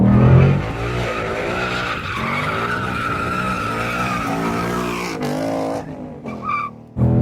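A 2018 Ford Mustang GT skids hard, its tires squealing loudly and continuously under heavy engine roar for several seconds before the sound briefly cuts out and returns.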